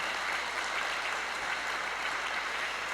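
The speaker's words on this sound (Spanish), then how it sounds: "Dele un aplauso ahí al Señor por su fidelidad." A church congregation applauds together in a steady, dense wash of clapping that holds evenly throughout, with no voices rising above it.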